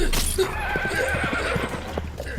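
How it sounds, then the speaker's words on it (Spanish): A ghostly horse neighs and snorts close by in a short, shaky whinny, with faint hoof clip-clops underneath, as a sound effect in an audiobook of The Legend of Sleepy Hollow. "oyó a sus espaldas el resoplido del caballo del fantasma"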